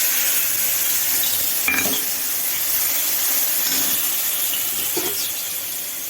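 Bengali-style masala of ginger, dried and green chilli, cumin and coriander paste with bay leaf and whole spices frying and being stirred in a pan, a steady close hiss and sizzle with occasional soft scrapes and clinks.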